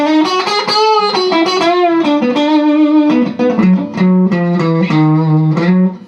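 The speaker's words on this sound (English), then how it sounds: "So this is another type of black-faced twin reverb sound." A clean electric guitar plays a melodic phrase with sustained, ringing notes and a touch of reverb, loud and close, with no talking.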